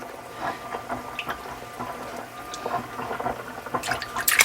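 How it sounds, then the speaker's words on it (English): Water drains from a container of freshly picked American beautyberries, giving a run of irregular drips, trickles and small splashes, close by, growing busier toward the end. "I'm going to drain my water out"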